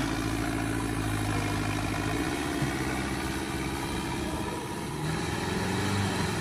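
An Arjun 605 tractor engine idles steadily nearby, a low, even chugging rumble with light mechanical clatter and no pauses.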